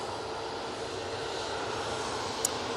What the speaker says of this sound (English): Ryanair 737 MAX 8 with the all blue AT winglet.